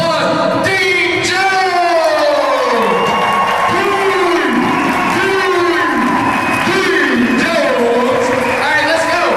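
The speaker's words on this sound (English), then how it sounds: "let's give him a round of applause" A crowd at a business event cheers and applauds loudly throughout, with shouts, whoops and excited voices layered over steady clapping, close and dense.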